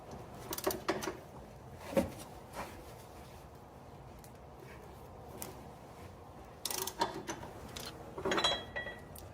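Wrench breaking loose water pump pulley bolts on a 2001-2007 Chrysler Town and Country, pulley held with a pry bar: faint scattered metallic clicks and clunks in short bursts, quiet and close, no speech.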